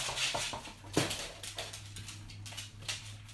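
Dogs act up in the background of a home kitchen, with scattered whimpers and small clatters over a steady low hum, faint and distant, with no one talking.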